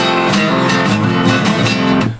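Several identical bars of a song strummed on guitar, a bright rhythmic pattern of ringing chords with steady accents, close and loud, fading at the end.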